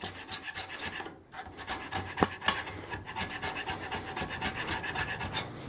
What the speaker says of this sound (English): What I'm going to do is just file a little.